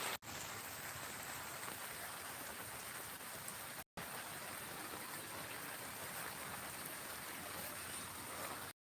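Steady, dense hiss of monsoon rain pouring down outdoors, continuous and even at moderate loudness, with a brief cut in the middle and no voices.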